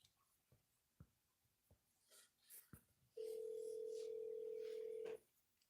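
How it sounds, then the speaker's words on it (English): In the Duskwood mystery game, a phone call rings out as a single steady electronic tone of about two seconds, preceded by soft clicks and taps. "I think it's just gonna keep ringing, ringing, ringing"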